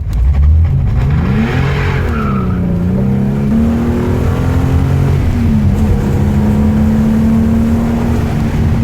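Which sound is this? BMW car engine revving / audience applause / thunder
BMW car engine revving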